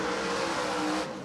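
A race car at the East Bay WinterNationals modified week flashes past on a track, a loud, steady broadband engine roar sustained for about a second before dropping off abruptly as it moves away.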